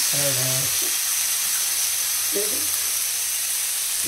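Tomatoes hit hot oil for a bhetki fish oli jhal, giving a steady broad sizzle with brief bits of voice at the start and midway.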